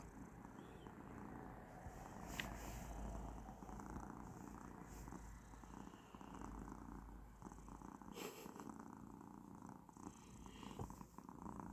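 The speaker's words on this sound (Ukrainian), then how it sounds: "А мурчить як." A Persian cat purrs steadily and close by on a quiet Sunday morning, the low continuous rumble running throughout with no talking.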